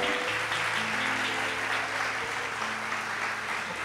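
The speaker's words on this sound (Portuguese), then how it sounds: "você pode aplaudir o Senhor." Church congregation applauding during a sermon, a dense steady clapping that holds from start to end, with a sustained organ or keyboard tone beneath it.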